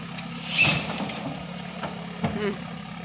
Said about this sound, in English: Sounds like the airbag on the truck.